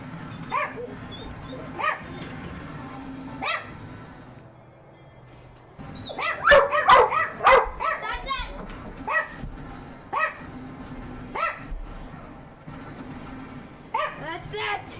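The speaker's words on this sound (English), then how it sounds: "Because they're barking." Several dogs in a house bark, yip and whimper in an excited burst, loudest in the middle, with a person talking throughout around and over the barking.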